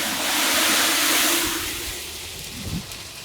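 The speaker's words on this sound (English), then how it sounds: "All of the oil molecules stick to the water and make a small explosion like" Half a cup of water poured into two cups of very hot canola oil in a kitchen pot sets off a loud, sustained roaring whoosh of steam and spatter that fades, followed by a few low thumps.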